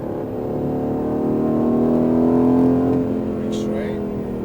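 Aston Martin Vantage engine accelerating hard on a race track, a steady rising engine drone building and holding loud for several seconds before easing off.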